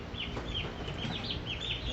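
Young turkeys and other poultry in a mobile brooder give continuous overlapping high chirps and peeps, close and fairly loud, with a busy, steady chatter throughout.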